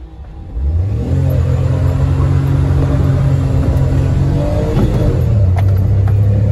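Two Maruti Wagon R hatchbacks rev for a drag race, a loud, sustained engine drone that starts abruptly, holds a steady mid-pitched hum, then shifts briefly higher near the end.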